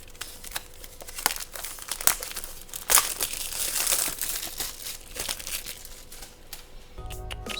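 Plastic wrap being torn off the packaging of a 2020 iPad Pro and Apple Pencil, a run of close crinkling and ripping with sharp snaps, ending in a brief rustle.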